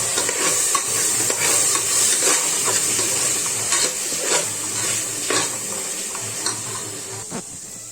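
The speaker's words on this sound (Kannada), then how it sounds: "ತೊಳೆದಿಟ್ಟು ಹೆಸರು ಬೇಳೆ ಹಾಕ್ಕೊಳ್ತಾ ಇದ್ದೀನಿ. ಅದನ್ನ ಸ್ವಲ್ಪ ಬ್ರೌನ್ ಕಲರ್ ಬರೋವರೆಗೂ ಹುರ್ಕೊಳ್ಳೋಣ." Washed moong dal roasts in a hot pan for khara pongal, a close bright sizzle running throughout with repeated scraping strokes of a spoon stirring it.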